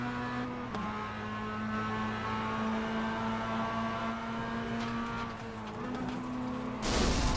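Race car engine in the iRacing sim after a bad downshift blows it, a steady droning hum that suddenly cuts to a harsh burst of noise at the end.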